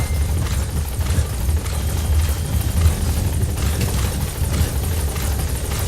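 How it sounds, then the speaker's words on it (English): A support helicopter lands at a landing zone in Metal Gear Solid 5: The Phantom Pain, its loud, steady rotor thrum and engine drone filling the scene without letup. "Support helicopter has arrived."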